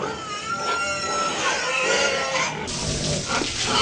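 Pigs grunting on a pig farm during the morning washing, a dense continuous chorus of grunts and squeals mixed with splashing water and hiss, steady and fairly loud throughout.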